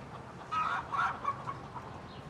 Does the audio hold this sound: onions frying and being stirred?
no